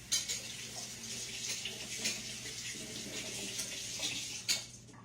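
Half of a very large tomato is rinsed under a running kitchen tap. The water makes a steady, close hiss throughout, with a few faint knocks.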